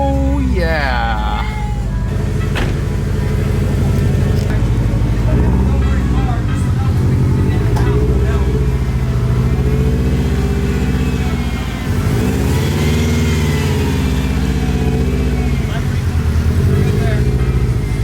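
A wrecked Subaru WRX engine runs after starting, a loud, steady close idle with small swells in pitch, while people talk over it outdoors.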